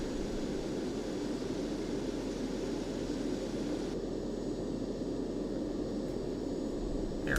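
Citation CJ (C525) jet turbine engines in a flight simulator game give off a steady, even whooshing roar that holds at a constant level throughout.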